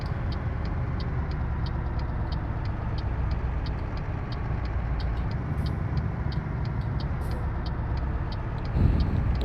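Truck engine in a driving simulator game droning steadily and slowly building revs, a continuous low rumble with a brief louder burst near the end.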